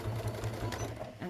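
A sewing machine stitching fabric for a folded star trivet, with a close, steady motor hum and rapid needle chatter running throughout the brief moment.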